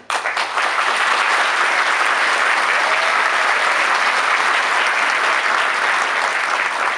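Loud, sustained applause from a crowd at a Teachers' Day celebration in Turgutlu, starting abruptly and holding a thick, even roar of clapping throughout without any talking.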